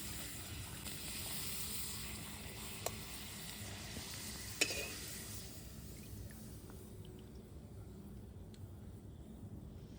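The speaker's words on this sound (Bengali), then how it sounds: "এই যে এখন আমাদের পাপড় ভাজা হচ্ছে।" Papad frying in hot oil during a family picnic, a close, steady crackling sizzle with a couple of sharp clinks partway through, fading slightly toward the end.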